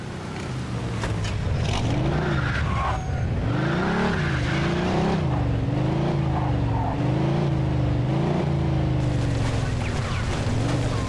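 A car in an open-world video game revs and surges along, engine note rising and falling in repeated sweeps, with tire squeals and skids woven through the steady roar, close and loud throughout.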